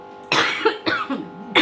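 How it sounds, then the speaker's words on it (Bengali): Someone coughs at home in a short burst of three harsh, close coughs, each sharp onset trailing off, with quiet room tone between them. "আমার আরো কাশি উঠবে।"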